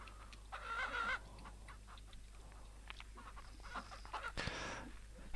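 In the farm game Ranch Simulator, a hen clucks in a few short, quiet bursts over a faint low hum, with brief scattered noises between them and no talk.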